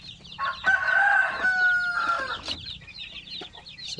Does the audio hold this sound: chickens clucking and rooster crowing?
yes